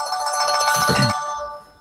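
A phone ringtone plays a short melodic phrase, moderately loud, then fades away within two seconds, with no talking over it.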